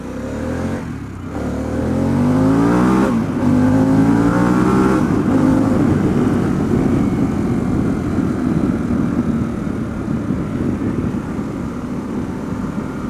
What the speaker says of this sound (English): There's something about this motorcycle that gives me kind of like fake engine noise in a car vibes.